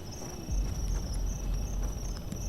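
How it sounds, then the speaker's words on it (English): Crickets chirping in the horror game The Mound: Omen of Cthulhu, a steady high insect trill sustained throughout, faint and alone over a low ambient rumble with occasional soft footstep-like thumps. "The crickets alone."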